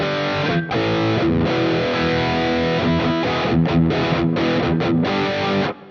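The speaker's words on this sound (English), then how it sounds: "basically it's just a little overdrive, and then I have a splash of reverb" An electric guitar with a gritty, lightly overdriven tone plays a quick run of notes, sustained and washed in reverb, loud and continuous.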